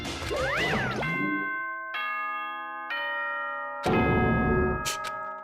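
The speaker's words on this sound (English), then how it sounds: "That chime just now." A bright electronic chime from the video game Danganronpa 2: Goodbye Despair, in several sustained tonal notes that step down and then ring out again loudly, with no voices.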